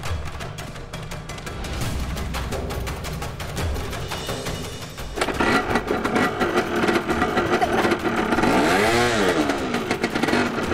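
A motorcycle engine clatters close by at a steady idle, then rises into louder revving with a swelling rise and fall in pitch. It runs on for about ten seconds and no one speaks over it.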